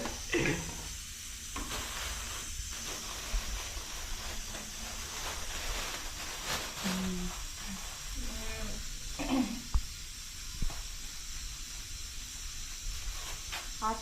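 Cumin seeds sizzle and crackle in hot oil in a home kitchen, a steady close hiss broken by sharp pops and stirring clatter, with occasional faint voices in the background.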